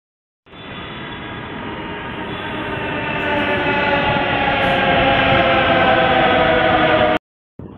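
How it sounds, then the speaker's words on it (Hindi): A new metro train rolls through a station, a loud, steady rumble and rush that builds over several seconds and then cuts off abruptly. "ये हमारे एरिया की न्यू मेट्रो बनी है"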